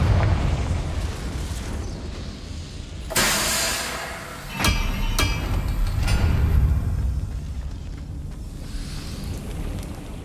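A Confringo fire spell detonates in Hogwarts Legacy, giving a sudden loud blast with a bright crackling burst, a second sharp explosion shortly after, and a rumbling roar that hangs behind and between them.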